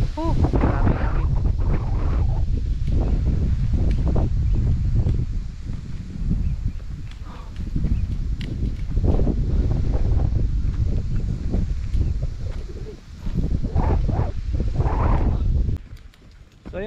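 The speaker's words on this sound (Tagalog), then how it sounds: "Grabe hangin." Strong gusts of wind roar across a hilltop view deck in Dingalan, Aurora, buffeting the microphone with loud, continuous rumbling that swells and eases over the whole span, with voices faintly mixed in.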